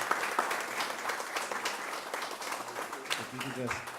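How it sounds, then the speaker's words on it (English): An audience at a town board meeting applauds, a dense steady burst of many hands clapping that fades as voices start to talk over it. "a little easy on the applause"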